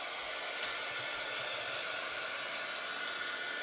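Heat tool blowing steadily over wet chalk paste on a sign, a constant close airy whoosh with one faint click near the start and no voices.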